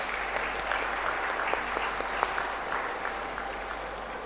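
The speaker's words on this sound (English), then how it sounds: "please give them a big round of applause." Steady applause from an audience at a school annual day function, a dense continuous patter of many hands clapping at even loudness from start to finish.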